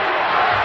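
Loud wrestling arena crowd at a 1986 WWF SuperStars tag match, a dense wall of yelling and chanting voices sustained close and steady throughout.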